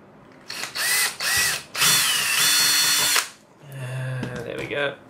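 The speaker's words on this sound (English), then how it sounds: "Now, I'm just gonna drill this hole" A power drill whirs in several short bursts, drilling a hole in a Polaroid SX-70 camera part, then runs in one longer steady stretch, followed by quieter mechanical clicks and handling sounds.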